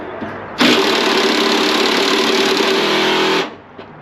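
The starter of a 1969 Chevelle whirs loudly and evenly for about three seconds, spinning freely without engaging or catching, before cutting off, with no engine firing.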